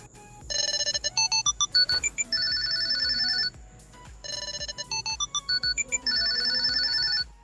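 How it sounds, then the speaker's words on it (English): Budget true wireless earbuds sound their find-my-earbuds alert, a loud, shrill, rapidly pulsing electronic tone that plays in two repeating bursts, close and on its own without talking. "Find My Headphone, which emits a loud high-pitched noise once you turn it on"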